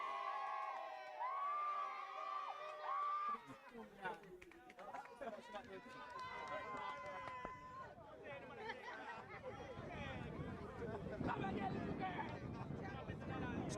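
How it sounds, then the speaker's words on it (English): Supporters cheer and shout at an under-17 elite league football match between Harbour View FC and Montego Bay United in Jamaica, a loose crowd roar rising and falling under continuous commentary. "Supporters cheering on Gooden every time he gets the ball and goes up against Edwards"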